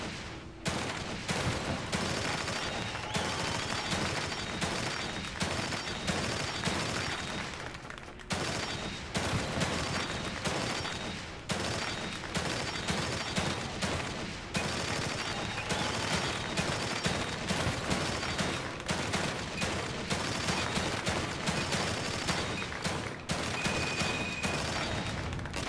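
Dense, nearly continuous gunfire from the survival-horror game The Evil Within 2: loud overlapping bursts of shots and rapid automatic fire, with brief lulls around eight and twelve seconds before the barrage resumes.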